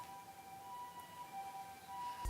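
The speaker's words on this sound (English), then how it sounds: "And there's an ambulance going by." A distant ambulance siren wailing steadily, faint under a broad hum of street noise near Harajuku in Tokyo, Japan.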